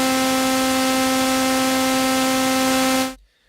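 A Circle2 soft-synth patch with sawtooth and noise oscillators, feedback turned up and the low-pass filter fully open, gives a loud, steady buzzy drone with a hiss on top, held for about three seconds before it cuts off abruptly.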